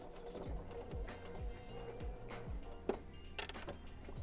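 A sewing machine stitches across an earlier seam while taking in a pair of tailored pants, its needle thumping in a steady rhythmic chatter close by, with a few small clicks and taps.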